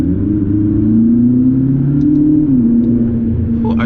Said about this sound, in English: just the sound this car makes, it's so like pure and like fine-tuned.